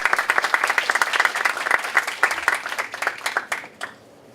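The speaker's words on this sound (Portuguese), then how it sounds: "Palmas para o Carlini." An audience at the opening lecture of the EnCPos 2018 academic event applauds to welcome a mathematics professor, with dense, steady clapping from a room full of people that tapers off and ends near the close.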